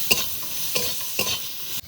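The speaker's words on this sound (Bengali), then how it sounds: "এবার পেঁয়াজটা একটু ভেজে নেবো, বেশি কড়া করে ভাজবো না, হালকা ভেজে নেবো" Chopped onion with salt and turmeric fries lightly in a pan, giving a steady hissing sizzle broken by a few quick scraping stirs, with no voices.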